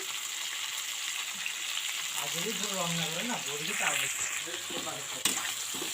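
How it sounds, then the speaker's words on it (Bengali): Onion, green chilli, garlic pieces and tomato fry in a pan with a steady, close sizzle and occasional stirring, while a faint voice murmurs briefly in the middle. "তো এটাকে সুন্দর করে ভেজে নেব। একটু সময় লাগবে ভাজতে।"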